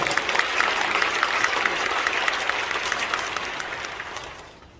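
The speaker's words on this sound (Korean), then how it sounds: "여러분 큰 박수로 맞아주시기 바랍니다." A crowd at a church prayer gathering honoring Korean War veterans applauds warmly, a dense continuous wash of clapping that holds steady and then tapers off at the end.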